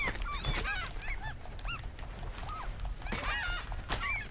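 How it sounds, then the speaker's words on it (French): Seagulls in the video game Reanimal cry in repeated squawking calls that come in bursts over a low rumbling game background, fairly loud and close, with no speech. "Elle me rend fou les mouettes."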